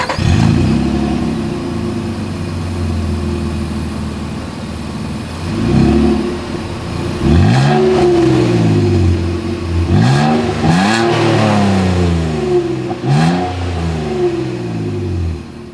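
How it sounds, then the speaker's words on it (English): A 2024 Nissan Frontier SV pickup truck's exhaust rumbles at idle, then revs repeatedly in loud, rising and falling bursts, close to the tailpipe with no talking. "As always, here is that exhaust clip."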